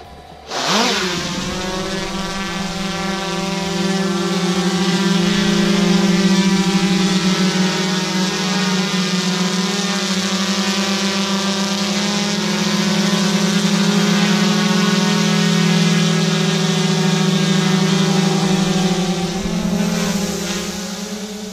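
GoPro Karma quadcopter drone spinning up and lifting off, a loud steady whine of its propellers and motors holding close and constant, with rising pitch at start and sustained harmonic buzz throughout.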